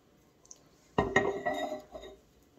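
A Fanta Grape glass bottle clinks once sharply, followed by a short cluster of lighter glassy knocks and rattles, close and fairly quiet, with no talking.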